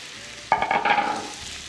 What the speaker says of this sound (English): Sizzling, nice and hot.